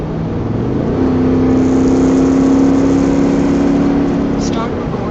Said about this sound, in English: Let me hear some wind noise.